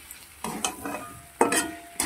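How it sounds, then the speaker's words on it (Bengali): Chopped chicken liver frying in a pan is stirred with a utensil, giving several distinct scraping strokes over a soft sizzle, close by and without speech. "এবার নাড়বো ভালো করে।"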